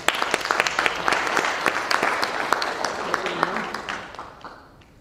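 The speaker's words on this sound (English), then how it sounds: "Please give a big round of applause for Mrs. Nirmala Jita" A summit audience breaks into applause, many hands clapping in a dense, lively patter that swells, then gradually fades away near the end.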